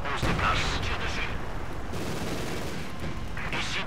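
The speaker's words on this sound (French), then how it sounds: "Tire de mitrailleuse sur nous" Machine-gun and heavy gunfire from the World War II strategy game Company of Heroes 2, during the Poznań citadel battle: a dense, loud, continuous roar of shots and explosions that fills the whole stretch without a break.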